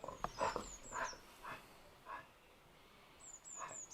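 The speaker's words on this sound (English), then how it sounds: "There's my dog again" A dog pants and gives soft whimpering sounds in short bursts, close by, with high faint bird chirps in the background.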